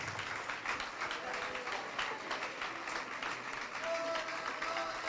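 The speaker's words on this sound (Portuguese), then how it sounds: "vamos aplaudir ao Senhor Jesus por cada vida que está chegando" A church congregation claps in sustained, rapid applause, a dense patter that carries on throughout while a preacher's voice speaks over it.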